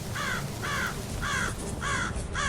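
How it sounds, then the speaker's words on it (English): Ravens and crows calling in a group over a scene of carnage, five harsh caws in an even, spaced rhythm, loud and fairly close, with a steady rushing background beneath. "Above her circled dozens of ravens and crows cawing at each other"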